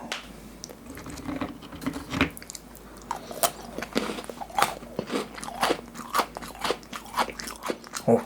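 A crunchy Pepero chocolate biscuit stick is bitten and chewed up close for a mukbang, giving repeated sharp crunches and crackles in an uneven rhythm with no talking.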